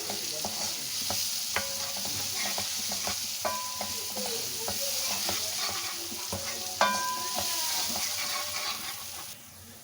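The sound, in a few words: masala frying in a pan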